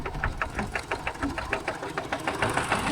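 A two-wheel walking tractor engine runs in a rural Thai village, chugging with a steady, rapid knocking rhythm close by, with no talk over it.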